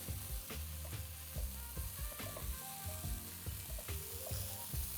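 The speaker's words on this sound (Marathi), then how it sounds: "ती पण चांगली परतून घेऊया." Ingredients for corn, spinach and millet pulao sizzling and being stirred in a hot pan, with a close, steady frying crackle and repeated scraping stirs.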